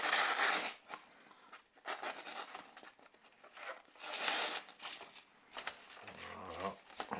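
A Marttini knife with a 440C steel blade slices through sheets of paper in several rasping, tearing strokes with brief pauses between them, close and clear, with no talk.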